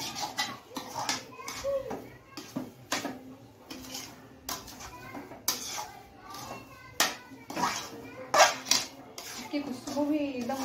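A metal spoon scrapes and clinks against a cooking pan while stirring semolina halwa with added sugar, giving irregular, close scraping and tapping strokes throughout, with someone talking intermittently over the sound.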